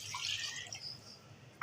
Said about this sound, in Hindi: अब मैं इसमें पानी डालूंगी, आलू को गलने के लिए 1 गिलास में पानी डालूंगी इसमें।